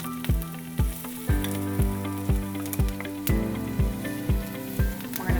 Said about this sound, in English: We're gonna saute our onion until it's translucent.